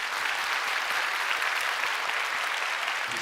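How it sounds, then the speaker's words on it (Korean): A church congregation at a Sunday worship service applauds a newly baptized family, producing a continuous, even wash of many hands clapping in a large room. "인사하실 때 박수로 축복해 주시길 바랍니다"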